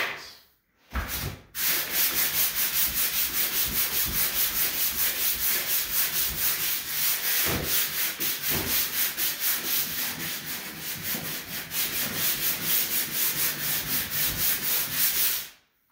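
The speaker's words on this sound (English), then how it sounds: "You can see I'm sanding skim coat on from previous attempts of doing this stuff." Steady, continuous abrasive sanding of a plaster skim coat on a wall, with a rhythmic back-and-forth rasp, close and loud, running almost the whole time after a brief pause near the start.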